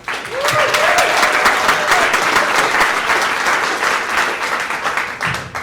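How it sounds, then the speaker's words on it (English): A debate audience at a Portland mayoral debate applauds steadily and loudly for several seconds, a dense continuous clapping that tapers slightly at the end, with a faint voice or whistle rising briefly early on. "I'll take those applause too."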